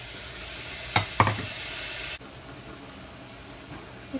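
Rice is added and stirred into a pan for coconut milk rice, making two quick scraping knocks over a steady hiss that suddenly drops to a quieter background.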